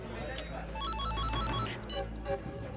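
A telephone rings repeatedly in a TV drama scene, bright electronic chirps sounding in quick bursts over a steady background hum, fairly close and clear, with no voices.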